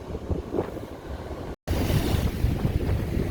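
Ocean surf washes onto the eroding beach at Damon Point on the Washington coast, a steady roar of waves mixed with gusty wind noise on the microphone, with a brief dropout midway.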